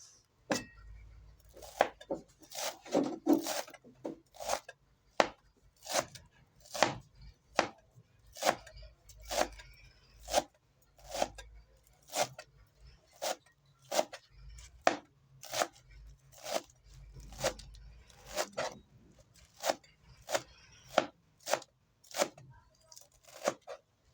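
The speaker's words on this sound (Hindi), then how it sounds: "अब यहाँ पालक को बरीक बरीक काटेंगे।" Spinach being finely chopped with a knife on a cutting board: about two dozen crisp, evenly spaced chops in a slow steady rhythm, close and quiet, with no talking.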